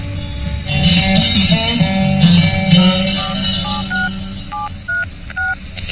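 Telephone keypad tones sound in a quick series of short beeps, clear and fairly close, after a stretch of muffled background noise and movement.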